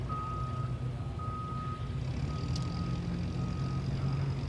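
A vehicle's reversing alarm beeps steadily in a regular pulse during a grassroots competition, a thin high tone sitting above a loud, constant rumble of engine and crowd noise.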